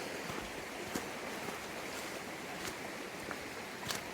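Steady, broadband rush of water from Slaughter Creek along a mountain trail, constant and moderately soft with a few small splashes or clicks, no voices.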